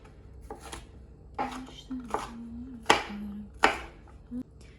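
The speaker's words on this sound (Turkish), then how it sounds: "Daha sonra biberleri kub formasında doğrayıram." Knife blade chopping bell peppers into cubes, crisp cuts hitting a board in an irregular rhythm, close up, no talking.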